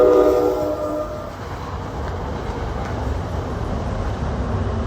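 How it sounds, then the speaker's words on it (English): A train rumbles past outdoors beside a summer home garden, a broad steady roar with a brief horn-like tone at the start, moderately loud and sustained. "As the train goes by."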